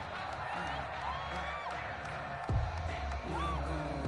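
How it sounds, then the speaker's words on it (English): Home crowd noise in a PS4 football video game swells into cheering after a penalty call, a steady roar of stadium ambience that lifts and grows louder partway through, with commentary voices over it. "This home crowd, they're happy with that call."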